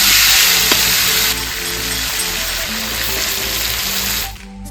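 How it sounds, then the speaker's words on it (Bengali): Potatoes frying in oil left over from frying a large boal fish: a loud, dense, steady sizzle close up that drops away sharply near the end, with no speech. "মাছ ভাজার তেলেই আলুগুলো ভেজে নিচ্ছি।"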